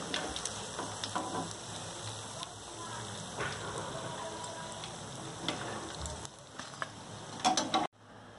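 Mixed vegetable batata vadas frying in hot oil, a steady close crackling sizzle with scattered pops throughout, ending abruptly.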